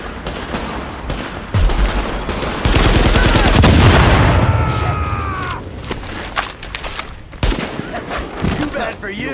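Sustained gunfire from a firefight in the video game The Division, with dense bursts of automatic fire, booms and overlapping shots that swell and fade, loud and close, with game voices in the mix.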